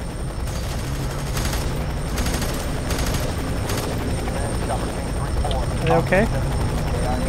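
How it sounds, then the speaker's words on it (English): In the video game F.E.A.R. 3, a helicopter's rotor thrums continuously while bursts of gunfire crackle in short clusters, with a person talking over the action. "Come on, helicopter, get out of there!"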